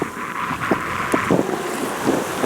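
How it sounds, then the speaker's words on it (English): Steady wind rush and water sloshing against a moving hull, with occasional splashes, as a sailboat cuts along under full sail in the Ionian Sea, Greece; no voices. "On our way to Ormos Ruda, under full sail."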